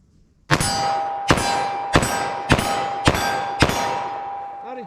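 Six evenly spaced shots from a 10mm Auto revolver at a steel target, each a sharp loud crack followed by a bright, lingering metallic ring that carries into the next shot.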